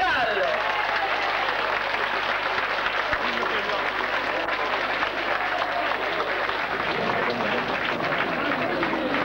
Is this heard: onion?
no